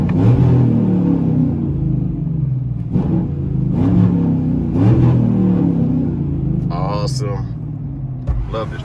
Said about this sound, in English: Want to let you guys hear what it sounds like from the inside.